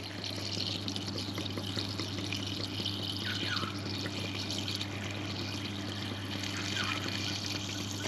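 Floodwater running and trickling out of a brand new lawn mower after a flood, a steady moderate gush with occasional drips over a constant low hum, no voices.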